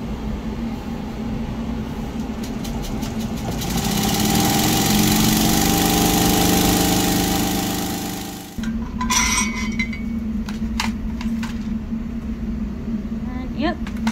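A benchtop lab centrifuge spins plates at 1500 rpm. It gives a loud, steady mechanical hum and whine that swells, then drops abruptly to a lower running drone with a few clinks, and voices are faintly audible.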